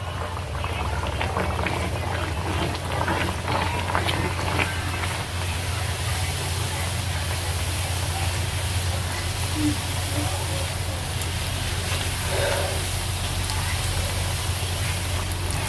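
Rolled dough rounds frying in hot oil, giving a steady, even hiss and bubbling that runs unbroken from start to finish, with a low hum underneath.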